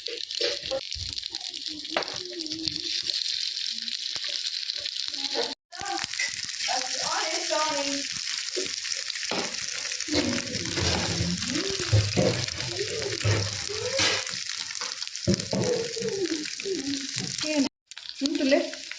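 Patrode fry in hot oil in a home kitchen, a steady bright sizzle running throughout with occasional stirring, under ongoing talk that includes a voice.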